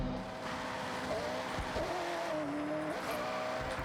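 McLaren Sabre supercar in Forza Horizon 6 driving with a steady engine drone, rising and falling engine tones and brief tire squeal, continuous and fairly quiet.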